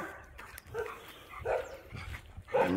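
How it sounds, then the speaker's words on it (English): Dogs in a residential estate area barking and yipping in short, scattered bursts, fairly faint and somewhat distant, over a noisy outdoor background. "dogs are everywhere we come in these areas"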